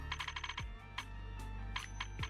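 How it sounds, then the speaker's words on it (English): A phone ringing in the video game Zenless Zone Zero, with quick repeated electronic chimes followed by a few spaced tones and clicks over a steady low game hum. "We got phone calls."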